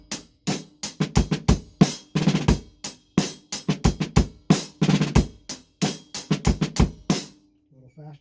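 A drum kit played as an exercise, with quick five-stroke snare rolls placed around bass drum hits, making a steady pattern of crisp, close bursts that repeat evenly before trailing off.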